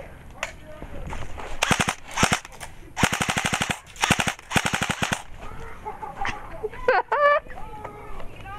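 Airsoft guns firing in bursts of rapid, rattling shots at close range during an airsoft game, with single pops mixed in and excited voices and shouting near the end.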